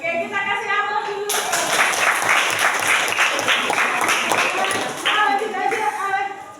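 Classroom audience applauding, a burst of clapping from many hands that starts abruptly and continues steadily for several seconds, with students' voices chattering before and after.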